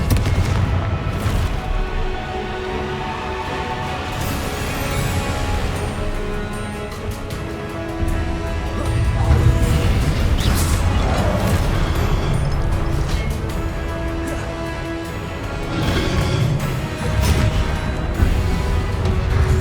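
Repeated Confringo fire spells burst in Hogwarts Legacy, booming blasts and crashing impacts rolling one after another over a dense, loud game battle soundscape, with no voices.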